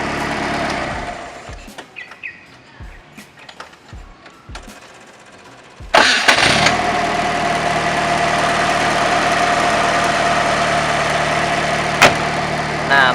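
An old Fiat 124 coupe engine cranks with a few short starter bursts, then catches at about six seconds and settles into a steady, loud, slightly rattling idle.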